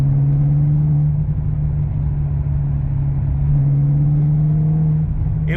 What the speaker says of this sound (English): So hold on, I'm gonna downshift.